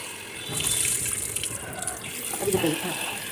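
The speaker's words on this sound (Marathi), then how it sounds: "ही डाळ पाण्याने स्वच्छ धुवून घ्यायची" Tap water runs steadily into a sink, splashing as toor dal lentils are rinsed under the stream, with a voice speaking faintly in the background.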